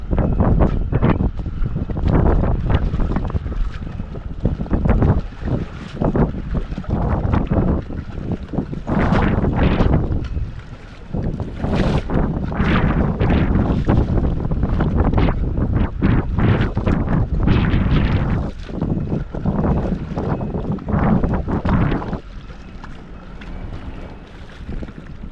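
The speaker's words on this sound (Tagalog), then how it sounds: "lakas kasi ng hangin" Strong gusts of wind buffet an outdoor microphone near the water, producing loud rumbling bursts that surge and drop repeatedly, easing off toward the end.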